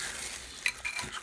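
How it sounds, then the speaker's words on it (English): A metal spoon scraping and clinking in a pot as juice is spooned over oxtails, short close clinks over a soft liquid hiss, with no talking. "Just go ahead and spoon that juice right over the top of those."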